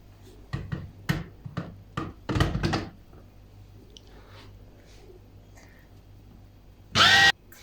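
Food processor grinding olive and walnut paste, working under strain: several short loud bursts of whirring and chopping, a longer grind, a quiet stretch, then one final brief loud burst.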